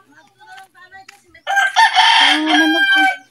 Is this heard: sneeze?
no